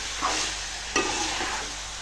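Chilli powder being stirred into chicken curry in a hot pan, a dense continuous sizzle with a couple of soft scraping stirs, close and steady without any voices.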